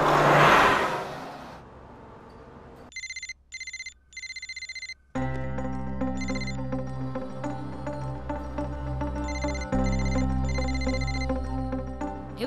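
A phone ringtone sounds in several repeated bursts, with loud music and engine-like hum underneath after the first few seconds, in a Telugu comedy scene.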